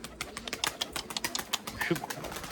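Lemon breeding pigeons in a loft make soft, repeated coos amid rapid wing flaps and light scuffling, close and busy, while someone talks over them.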